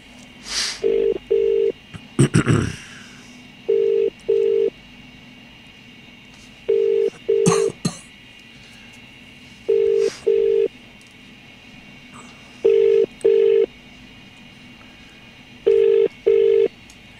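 A phone call placed for a live radio show: evenly spaced pairs of ringback tones repeat about every three seconds through a phone line, with a burst of dialing and clicks near the start and little else between rings.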